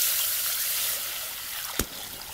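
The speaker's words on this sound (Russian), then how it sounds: "Добавляем воду, так как уже все поджарилось." Water poured into a pot of fried soup ingredients while making soup with goutweed, a steady sizzling, trickling wash of liquid with a brief sharp spike near the end.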